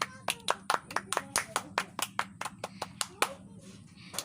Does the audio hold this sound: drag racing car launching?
no